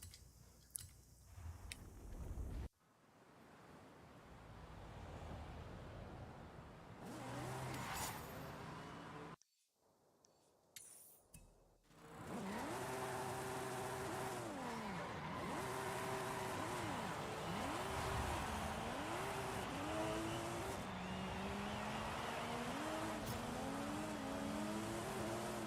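Engine of a tuned Toyota drifting in a Hot Wheels racing game, revving up and down in repeated swooping waves after a few abrupt cuts, with no talking.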